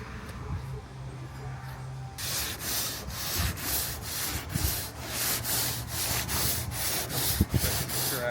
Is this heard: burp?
no